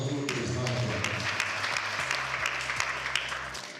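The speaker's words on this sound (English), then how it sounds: "Let's clap for you." A crowd claps steadily and loudly, the applause thinning out toward the end with a few sharp individual claps.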